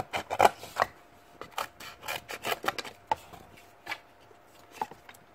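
Scissors snipping through paper to cut out a rough sole pattern for a crochet doll, a quick irregular series of close, crisp cuts with short pauses between them.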